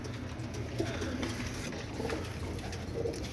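Pigeons coo softly and repeatedly nearby, low throaty calls over a steady background hum with no talking.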